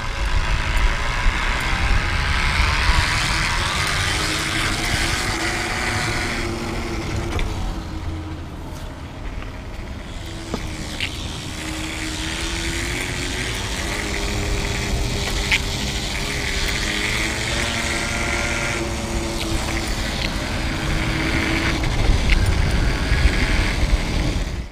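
Rubbee Drive 2.0 friction drive roller spinning against a knobby mountain bike tire, a steady loud whirring and droning hum with a buzzy, grinding texture that rises and shifts slightly in pitch throughout.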